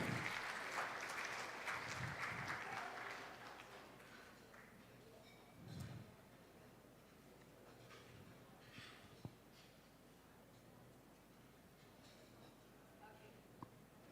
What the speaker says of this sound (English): please give a round of applause to this international conference